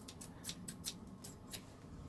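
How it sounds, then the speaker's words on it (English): Scissors snip through ribbon during an Easter gift craft, giving a string of quick, faint, crisp cuts in an uneven rhythm with no voices. "let me change those scissors, just cut off some ribbon"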